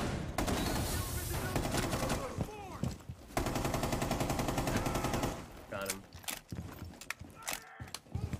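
Sustained light machine gun fire in Rainbow Six Siege, long dense bursts running almost continuously at close range, broken by brief pauses and mixed with other game noise near the end.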